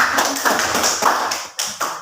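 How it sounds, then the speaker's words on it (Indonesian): An audience claps for a group in a classroom or meeting setting, giving a close, dense patter of hand claps with a few sharper accents, steady for about two seconds with no voices over it. "Tepuk tangan lagi untuk kelompok"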